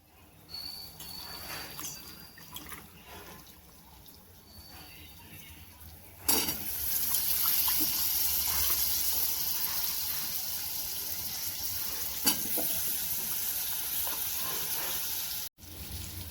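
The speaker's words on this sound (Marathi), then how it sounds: "आता हे धुवून घेतलेले आलू वांगे त्याच्यामध्ये टाकून देते." Washed potatoes and brinjal are tipped into a hot pan, and a loud, sudden sizzle bursts up and keeps frying steadily and close at hand for several seconds.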